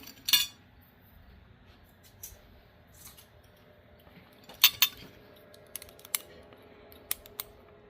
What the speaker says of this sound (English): pick a piece of 762 by 39 brass, and I will cut it